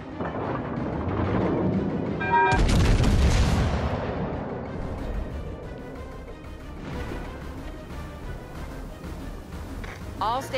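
Warship guns firing in the naval video game World of Warships: Legends, a loud booming salvo that rolls into a long rumbling decay, followed by quieter distant thuds and game effects while a voice speaks.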